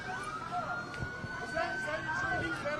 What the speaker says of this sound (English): Hearing sirens not too far from where we're standing